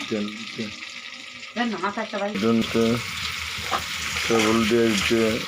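Puti fish fry in oil with a crackling sizzle underneath, while a person talks over it throughout.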